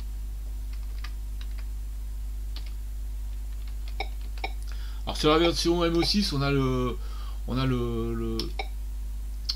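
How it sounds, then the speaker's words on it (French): A Thomson MO6 computer keyboard gives short, sparse key clicks and beeps while a game runs, and someone talks over the later part. "on a le bruit du clavier, enfin le bip"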